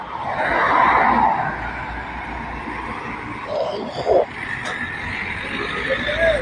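Large vehicles turning through the busy Lalpol road junction in Feni, a continuous close roar of engines and traffic with a brief louder surge midway, background voices mixed in.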